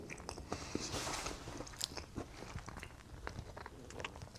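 Biting into a dense, compact Chinese military ration bar, several close crisp crunches and chewing clicks in an irregular rhythm, quiet overall, no talking.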